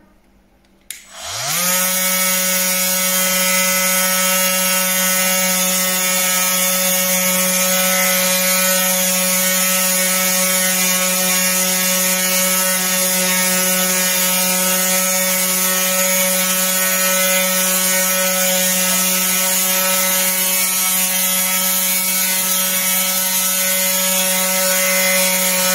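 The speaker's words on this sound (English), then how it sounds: "it's first time that I'm using any type of sander, so believe me, zero experience" An Einhell Varrito cordless multifunctional tool starts up and sands wooden stair rails, giving a loud, close, steady mechanical whine that runs unbroken for more than twenty seconds without talk.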